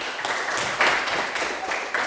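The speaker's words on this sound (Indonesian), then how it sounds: "Oke, tepuk tangan untuk kita semua." A classroom of students claps together, a dense patter of many hands that surges in a few waves and stays moderately loud throughout.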